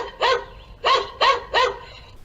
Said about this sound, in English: You can enable the barking dog sound.